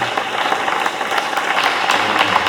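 A congregation applauds in a basilica during a welcome rite, dense sustained clapping from many people that fills the space evenly throughout.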